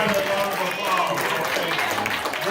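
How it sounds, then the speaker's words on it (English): Church congregation applause at a service where a Missouri Senate candidate speaks, a continuous crowd clapping wash with voices mixed in beneath it. "Let's give God a lot of applause."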